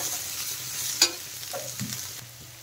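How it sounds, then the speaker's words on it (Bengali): Chopped onions and green chillies frying gently in a pan for cauliflower Manchurian, a soft steady sizzle with a few scraping stir strokes and one sharp utensil tap, close and fairly quiet. "কুচনো পেঁয়াজ আর কুচনো কাঁচা লঙ্কা দিয়ে দিলাম, দিয়ে ভেজে নেব হালকা"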